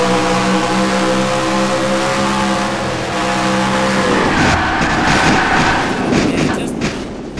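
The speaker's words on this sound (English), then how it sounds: "Here we are with the onboard camera of the Bass Pro Shop Chevrolet SS of Trent Dunham." An onboard view of the Bass Pro Shops Chevrolet SS in a NASCAR SEGA racing game, with a loud engine drone that breaks into tire squeal and crashing skid noise midway.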